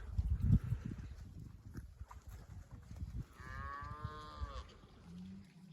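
Cattle on an open-air breeding farm in Hungary give a long, drawn-out moo midway through, preceded by a low thudding bump and scattered farmyard noises, moderately close with no talking.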